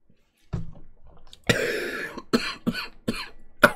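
Several harsh, close coughs come in a ragged burst, one long rasping fit followed by shorter sharp hacks and a throat-clearing catch.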